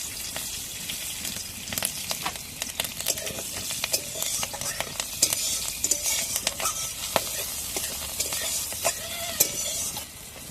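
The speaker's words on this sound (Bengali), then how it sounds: "এই তেলে আর একটু সামান্য তেল দেব। কালো জিরে ফোড়ন দেব। 4টে কাঁচা লঙ্কা দিয়ে দিলাম।" Nigella seeds and green chillies sizzle in hot oil with a crackling, spattering hiss. Sharp pops and stirring scrapes come close and steady throughout.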